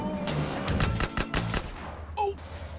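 Rapid gunfire in GTA San Andreas, a quick burst of sharp loud shots close together over a background rumble, trailing off into brief electronic tones.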